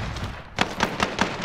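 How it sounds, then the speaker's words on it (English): A stun grenade goes off in Warzone, a quick run of four or five sharp, evenly spaced bangs over a low background rumble, each one a short burst following the last. "Stun grenade now."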